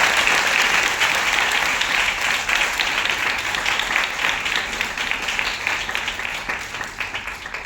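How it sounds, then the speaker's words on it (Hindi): Crowd at an empowerment training event bursts into loud, sustained applause, dense continuous clapping filling the room for the whole stretch without a break. "एक बार जोरदार तालियां इसके लिए"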